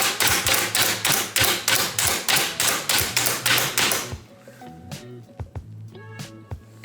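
A kitchen chopper gadget minces an onion with a fast run of about a dozen loud, regular chopping thumps, then stops, leaving scattered quieter taps and clicks.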